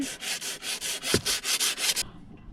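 Steady rhythmic sanding strokes on bronze with green patina, rasping back and forth, about ten passes in quick succession, close and fairly loud, then stop abruptly.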